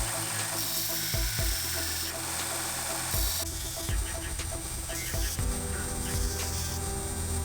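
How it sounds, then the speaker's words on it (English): A 1x30 belt grinder cleaning up screwdrivers forged from ratchet strap hooks after tempering, a continuous high whine with shifting pitch as the steel is pressed on and lifted off the belt, loud and close. "After tempering, we'll take it over to our 1x30 grinder and get it all cleaned up."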